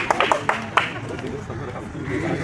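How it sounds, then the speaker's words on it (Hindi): A class greets a Bihar police exam topper with a few sharp, scattered claps up close, quickly fading as talking carries on. "ताली हो जाए।"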